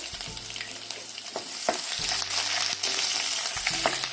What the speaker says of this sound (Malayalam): ഇപ്പോൾ ഉലുവ പൊരിയുന്നുണ്ട്. ഇപ്പോൾ ചെറിയുള്ളിയും ജീരകവും ചേർത്ത് കൊടുക്കുന്നുണ്ട്.